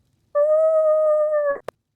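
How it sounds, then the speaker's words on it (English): A single wolf howl outside at night, one long steady sustained wail lasting over a second, fairly close and clear against quiet, ending with a brief soft rustle or tap. "There's a wolf outside."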